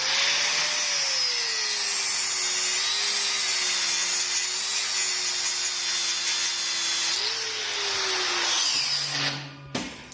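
A grinder cuts a deep gouge into a metal part held on a homemade automatic magnetic grinding table, giving a loud, steady whine for about nine seconds before it abruptly stops.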